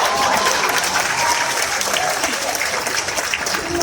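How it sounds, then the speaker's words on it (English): A graduation audience at a Pitzer College commencement breaks into loud, sustained applause, a dense continuous clapping across the hall. "You are applauding today."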